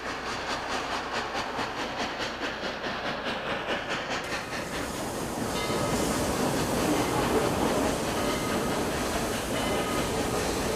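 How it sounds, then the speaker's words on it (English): A 1950s Norfolk and Western Class A 2-6-6-4 steam locomotive, number 1222, hauls a heavy coal train. Rhythmic exhaust chuffs give way to a louder, continuous rumble and clatter of passing cars, with steam hiss, heard close and without voices. "Norfolk and Western Class A locomotive 1222, a 2664, chuffs by, pulling a coal drag bound for Columbus, Ohio"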